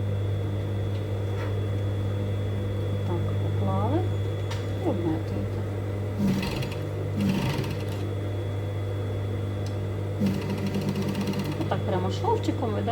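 An overlock seam being stitched on a sewing machine, a steady mechanical hum running throughout, close, while someone speaks over it.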